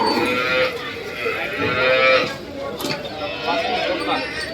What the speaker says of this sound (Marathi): जनेली गाय